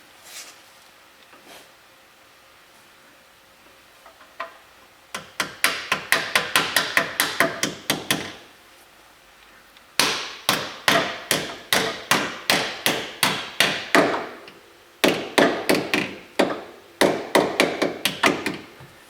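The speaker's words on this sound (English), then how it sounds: "using a little plastic hammer to pound them home" Repeated sharp taps of a small plastic hammer pounding plastic frame plugs into a 2023 Polaris Ranger 1000XP, in quick bursts, three runs of rapid knocking separated by short pauses, close and fairly loud.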